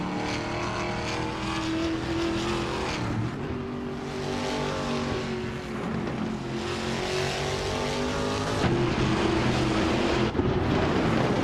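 A 2008 Mercedes C200 engine in a racing video game drones steadily and loudly, with sustained harmonic tones that shift pitch as it changes gears, running continuously without any voices.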